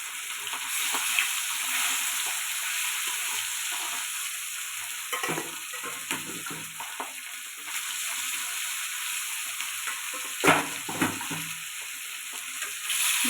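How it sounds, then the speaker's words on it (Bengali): Pieces of katla fish fry in hot oil in a wok, giving a steady, fairly quiet sizzle that runs throughout, broken by a few louder clatters and scrapes as the fish is turned. "মাছগুলো একে একে ভেজে নিব।"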